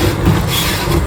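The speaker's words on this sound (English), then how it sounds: "The locomotive that's pulling us today is a 1932 Edison." A 1932 Edison steam locomotive pulling a passenger train ride at Greenfield Village, a steady close rolling rumble with low chugging and track noise, no voices.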